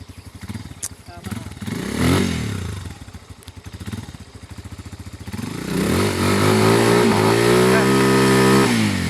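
A Rusi KRY 200 motorcycle engine revs loudly up close, with rough idling and throttle blips early on, then sustained high revs that climb and hold in pitch.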